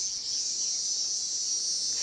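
A continuous high-pitched cicada drone rings from the trees, even and unbroken, fairly faint with only quiet background beneath it.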